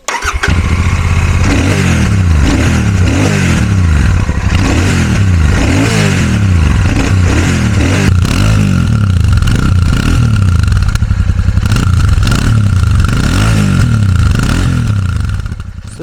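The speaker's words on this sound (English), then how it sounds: "crank up the engine, and I'll show you the exhaust note" A Royal Enfield Super Meteor 650 motorcycle idles and revs up repeatedly, its exhaust note rising and falling in steady, loud, close pulses for the full stretch with no talking.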